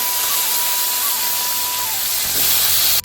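Eggplant goes into hot oil seasoned with black cumin, making a loud, continuous broadband hiss of sizzling that swells sharply near the end, with no voices.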